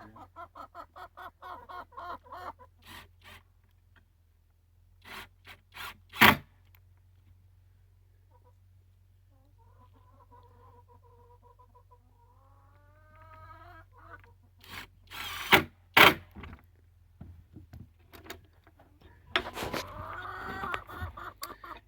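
Hens in a temporary chain-link enclosure cluck and murmur in bursts, close by, with scattered scratching and rubbing noises and a few sharp knocks between the calls.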